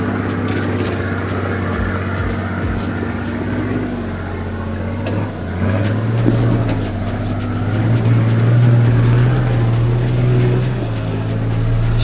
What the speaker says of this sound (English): I pointed the Q bus at the top of the hill and kept that throttle sticking